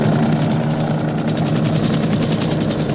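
Helicopter from the 1983 film Never Say Never Again, a loud, steady rapid rotor chop with a heavy engine drone, close and continuous without speech.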